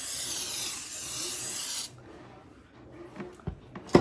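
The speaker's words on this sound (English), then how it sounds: "You want to spray the inside" Cooking spray hissing into a bread pan, one steady burst lasting under two seconds, followed by quieter handling clatter and a sharp knock at the end.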